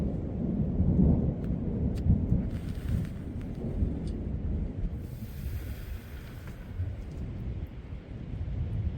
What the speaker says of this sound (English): But look, man, I'm hearing some crazy thunder.